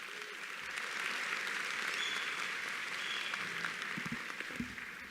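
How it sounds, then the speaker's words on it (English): Commencement audience at a graduate school of education ceremony applauding their families, a broad, even roar of clapping from a large crowd that holds steady, with a few faint background sounds near the end. "Please give a round of applause to your families."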